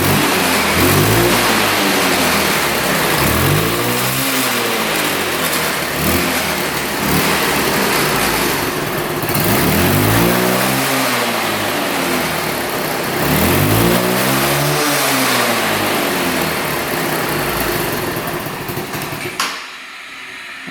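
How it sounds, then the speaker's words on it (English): A worn, smoking scooter engine with a loose exhaust pipe revs loudly in repeated rising-and-falling bursts, several throttle pulls close by, before the sound drops away at the end. "that's revving out really good"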